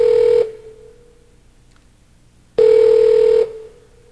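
A Longhorn communication PC places a phone call, giving two steady electronic ring tones split by a short silence, each loud and clear with a fading tail.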